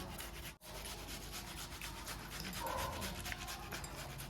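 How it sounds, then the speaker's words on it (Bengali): Watermelon is rubbed against a grater to make juice, giving a continuous close, wet rasping and scraping with one very brief pause near the start. "এরকম করে ঘষে ঘষে ঘষে ঘষে ঘষে ঘষে আমরা খুব সহজভাবে জুস তৈরি করব।"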